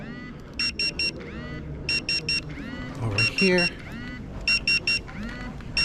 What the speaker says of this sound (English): it looks like they're beeping me right now to come pick up my food